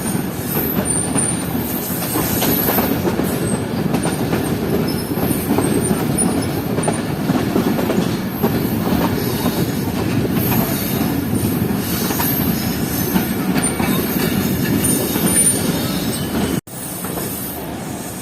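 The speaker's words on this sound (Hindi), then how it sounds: "तो ट्रेन ट्रैक चेंज करते हुए प्लेटफॉर्म लाइन पर लग रही है।" The Sir Syed Express passenger train rumbles steadily as it changes tracks onto a platform line, with continuous loud wheel noise, rattling and squeals throughout, briefly cutting out near the end.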